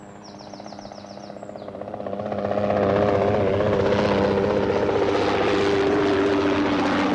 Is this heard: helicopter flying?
yes